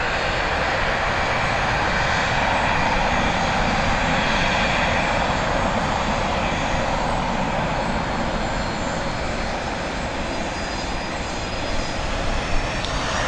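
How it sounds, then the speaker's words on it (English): Transavia airliner departing Dublin Airport, a loud, steady roar of jet engines that holds for the whole stretch with a broad rushing hiss. "we've got Transavia on departure"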